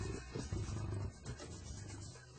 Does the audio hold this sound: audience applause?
no